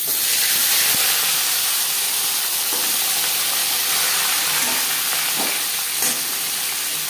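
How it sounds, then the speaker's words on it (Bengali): Hot refined oil heated in a pan for frying fish gives a loud, steady broadband hiss that stays unbroken throughout, with only faint occasional ticks. "মাছ ভাজবার জন্য পরিমাণ মতো রিফাইন্ড অয়েল গরম করে নিয়েছি"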